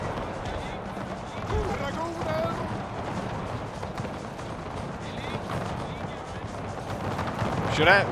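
Artillery canister blasts and musket gunfire from a Napoleon Total War battle between Swedish and Danish armies, a dense continuous din of shots and battle noise with talk running over it.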